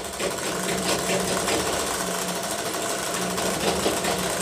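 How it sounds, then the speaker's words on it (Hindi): A sewing machine stitching the side slit of a kurti runs in one continuous, even mechanical whir with a fast needle rhythm, close and steady throughout, with no voices. "दूसरे किनारे पर ये इस तरह से सिलाई लगाना स्टार्ट करेंगे"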